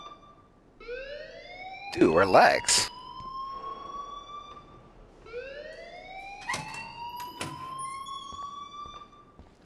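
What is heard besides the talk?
alarm ringing in Life Is Strange video game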